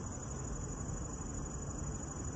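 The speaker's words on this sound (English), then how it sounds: "I also really like the sound of these bugs. I thought they were crickets" Crickets or small cicadas chirp in a steady, high, continuous drone outdoors in daytime woods, loud and close, with no voices over it.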